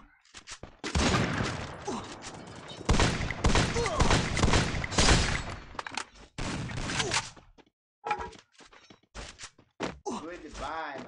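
Bursts of rapid game gunfire crackle loudly in clusters, broken by short pauses, with a voice speaking between shots near the end.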